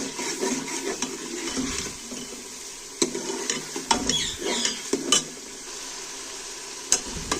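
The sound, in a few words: frying and stirring in mustard oil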